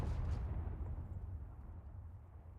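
Purple beam weapons firing in the Starcore Warhammer 40K game, a heavy low rumbling burst that starts strong and rolls on as a sustained booming roar without pause.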